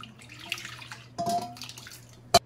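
Water poured over a stone grinding slab while it is washed clean, giving a soft trickling splash with a short burst midway and a brief sharp knock at the end, faint and close with no talking.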